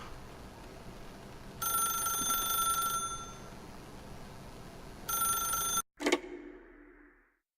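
A telephone in The Stanley Parable video game rings in two long electronic bursts separated by a pause, then cuts off abruptly with a brief clatter as it is picked up.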